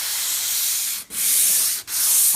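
Sandpaper of 220 grit rubs across a waxed IKEA Billy bookcase in three close, continuous hissing strokes, with a brief break between each stroke and no talking.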